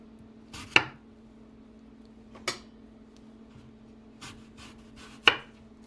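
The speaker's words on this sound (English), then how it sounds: "And then we're just going to cut really thin slices." A knife cuts thin slices of pork tenderloin on a board, giving four sparse, crisp thunks a second or two apart, close and fairly quiet over a faint steady hum.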